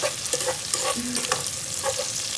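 Ginger sautés in a pan for tinolang manok, giving a close sizzle with quick stirring scrapes and clinks of a utensil against the pan in short bursts; no talk.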